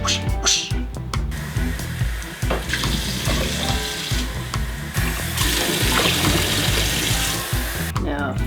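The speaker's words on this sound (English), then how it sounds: "Now 14 cups of water is going in the pot" Water running from a tap into a large soup pot for vegetable soup, a steady loud gushing rush with small shifts in tone as it fills, close by and without speech.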